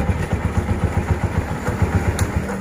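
A Honda CD 125 motorcycle engine runs near and steady with a rapid low rhythmic chug and a rough grinding clatter from the rear of the bike.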